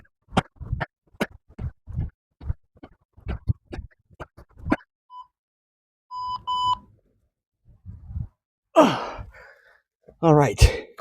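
An interval timer for a calisthenics workout gives a short run of electronic beeps midway, surrounded by heavy panting breaths and sighs from someone resting between sets.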